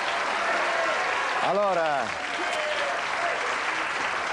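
Studio audience applauding on the 1989 Italian TV game show La Ruota della Fortuna, a steady wash of clapping throughout while someone speaks briefly over it.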